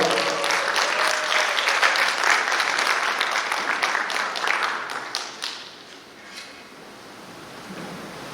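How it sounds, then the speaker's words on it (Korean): A seminar audience of pastors claps warmly to welcome a church speaker, a dense, sustained round of applause that gradually thins and fades out over several seconds. "뜨거운 박수로 환영하겠습니다."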